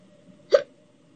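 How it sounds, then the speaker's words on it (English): A single short hiccup, sharp and close, stands out against a quiet room with nothing else going on. "Sorry, I have the hiccups."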